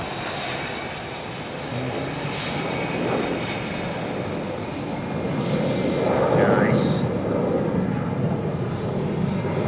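A jet airliner at Heathrow Airport gives a sustained, loud engine roar that swells slightly over time, with faint talk underneath.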